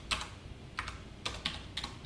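JavaScript code being typed on a computer keyboard, a handful of sharp, separate key clicks at an uneven pace, close and fairly quiet.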